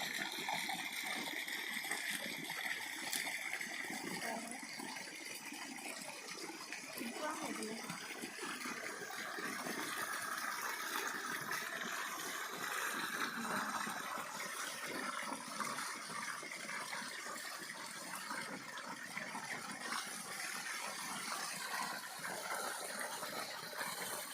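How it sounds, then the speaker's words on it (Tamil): Water pours steadily into a water tank as a continuous rushing, splashing wash that holds at an even level throughout, with no break. "நல்லா தண்ணி போயிட்டே இருக்குதுங்க அப்படியே இந்த பக்கம் பாருங்க உள்ள வந்து இப்படி விட்டு போகுது"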